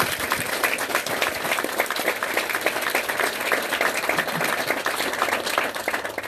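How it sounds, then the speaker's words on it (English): Steady, dense applause from a crowd at an army training graduation ceremony for cadets, with many hands clapping together, loud and continuous from start to finish. "Let's give each other a round of applause."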